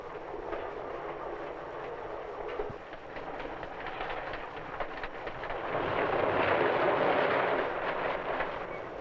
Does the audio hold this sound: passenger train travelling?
yes